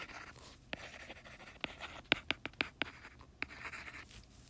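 A pen scratching on paper while sketching a graph and marking the amplitude, a quiet stretch of soft strokes followed by several sharp taps and scratches close by, with no talking.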